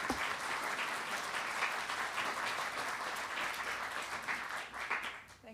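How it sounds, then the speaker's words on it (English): An audience at a women-in-leadership lecture gives a guest speaker sustained applause, steady dense clapping that carries on for several seconds before tapering off at the end. "give her a round of applause"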